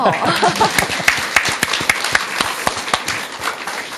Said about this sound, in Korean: 이렇게 박수까지 우리가 치고